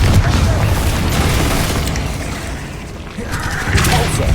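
Confringo spell blasts from the Hogwarts Legacy video game fill the clip with a loud, continuous rumbling boom and crackle, swelling again near the end.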